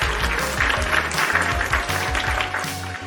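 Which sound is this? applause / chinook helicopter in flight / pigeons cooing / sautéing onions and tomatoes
applause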